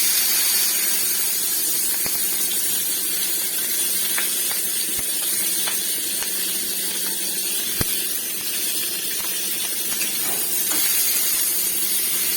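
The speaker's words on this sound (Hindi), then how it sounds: "कैप्सिकम के भी एमती फ्राए करदेमा" Capsicum frying in hot oil in a home kitchen pan, a steady close sizzle and hiss with small crackles and pops throughout, no voices.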